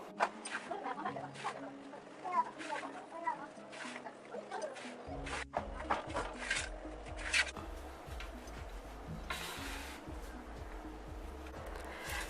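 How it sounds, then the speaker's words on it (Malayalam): Hands rub flour and grated coconut together for puttu powder, making soft, irregular gritty rustling and scratching up close, with light knocks and some background noise. "നമ്മളൊരു 15 മിനിറ്റ് ഇങ്ങനെ പൊടി നന്നായിട്ട് തേങ്ങയായിട്ട് കൂട്ടി തിരുമണം."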